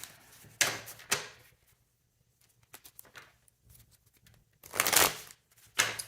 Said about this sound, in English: So let me give this deck a couple shuffles.